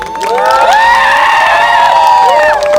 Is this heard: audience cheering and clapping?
yes